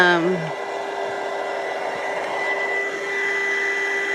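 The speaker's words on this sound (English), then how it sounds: "this will go over that project with a heat gun, hot air gun, and it will just melt them away or blow them off" Heat gun blowing hot air over craft glue gun strings, a loud steady whooshing blower hum with a constant tonal whine, briefly under a short voice at the start.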